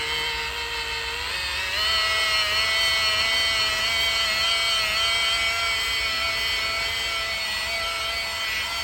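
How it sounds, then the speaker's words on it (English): A variable speed polishing machine whines steadily against a car bumper under repair, a loud, continuous high-pitched motor tone that rises slightly in pitch early on and then holds, with no talking. "Variable speed machine."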